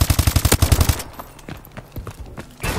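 AK12 fire in a Call of Duty: Advanced Warfare capture-the-flag match: a loud, evenly spaced automatic burst for about a second, then scattered single shots and distant fire before a loud burst returns near the end.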